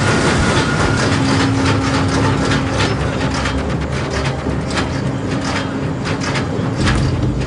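An enormous ship's engine runs at about 90% load, a dense, loud mechanical roar with rapid rhythmic clatter and hiss filling the space steadily from start to finish.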